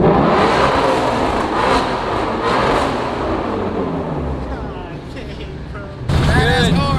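A Shelby GT350 drives through an underpass, its engine droning and echoing steadily close by, then a sudden louder, brighter surge of engine noise near the end. Someone speaks over it.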